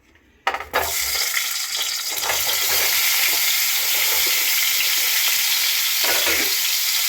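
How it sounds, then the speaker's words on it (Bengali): Salt-and-turmeric-coated pointed gourd drops into hot mustard oil and erupts into a loud, steady frying hiss that carries on throughout, with occasional stirring scrapes beneath. "এখন তেল গরম হয়ে গেছে, দিয়ে দিচ্ছি নুন হলুদ মাখানো পটলটা"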